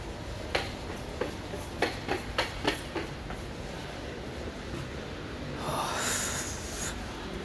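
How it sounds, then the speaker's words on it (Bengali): Train at Ancona railway station in Italy in winter, with a low steady rumble of the station and several sharp metallic clacks early on, then a rising hiss near the end. "ট্রেন ছিল এটা, এই ট্রেনে করে আসছি।"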